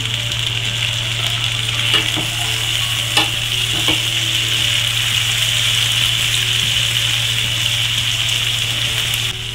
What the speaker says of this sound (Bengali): এবার এগুলো আমি ভালো করে ভেজে নেব।